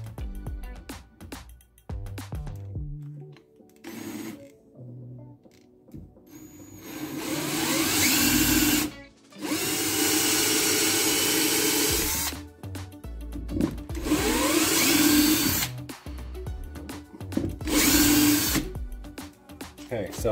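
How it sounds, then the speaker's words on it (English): A cordless drill spins a step-up bit through the plastic hull of a Feelfree Lure 13.5 V2 kayak, cutting a starter hole in several loud bursts of whining, grinding noise separated by short pauses. "got our step-up bit and our drill."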